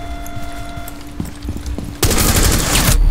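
Gunfire in Rainbow Six Siege, with scattered faint shots and clicks at first, then a loud sustained burst of rapid automatic fire that dominates the last second.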